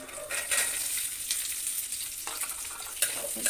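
Garlic and onion frying in a pan for homemade chili cabbage, a steady bright sizzle with crackling spikes and occasional stirring scrapes, close and continuous.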